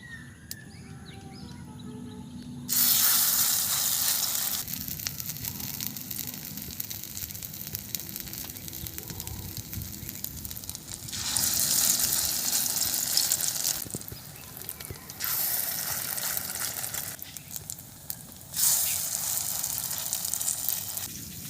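Bottle gourd flower fritters fry in a pan, the hissing sizzle swelling in several loud bursts and easing between them, with faint birdsong in the background.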